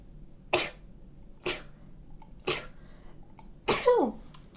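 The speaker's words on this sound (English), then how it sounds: "I'm going to sneeze again. Why am I so sneezy?" A person sneezes four times in a row, each a sharp, loud, close burst spaced about a second apart, the last one longer with a voiced tail. No talking.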